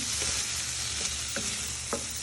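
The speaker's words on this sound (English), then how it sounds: "Then you give them all a good stir in" A pan of food seasoned with salt and ground black pepper fries with a steady close sizzle while a utensil stirs it, leaving a few soft scrapes and clicks and no talking.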